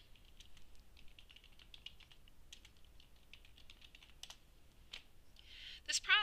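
Light typing on a computer keyboard while searching for scholarly articles, a quiet patter of irregular key clicks with a few sharper taps and a brief louder click at the end.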